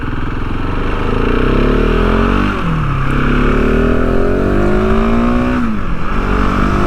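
KTM 690 Enduro R single-cylinder engine pulling in top gear on a dual sport ride, a loud steady drone with a dip around the shift, then rising smoothly in pitch as speed builds, over constant wind noise.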